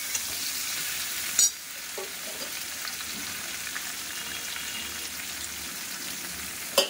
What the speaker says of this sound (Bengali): তো সোয়াবিনগুলোও এই সবজির সাথেই ভেজে নেবো